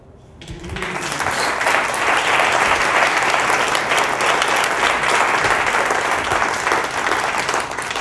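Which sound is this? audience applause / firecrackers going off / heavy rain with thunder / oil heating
audience applause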